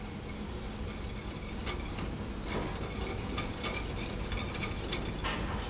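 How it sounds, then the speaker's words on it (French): A whisk working carrot purée into a thickening sauce in a chef's kitchen: soft, repeated scraping and tapping strokes against the pan, fairly quiet and rhythmic. "Et nous l'incorporons avec l'aide d'un fouet."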